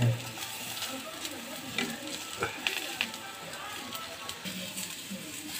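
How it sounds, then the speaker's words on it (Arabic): Eggplant frying in a pan with a small splash of oil gives a soft, steady sizzle under scattered scrapes and taps of stirring, close but fairly quiet throughout. "رشه زيت صغيره ونقلب كل شويه، نقلب ما تديش فرصه ان حاجه تتحرق او تتلسع"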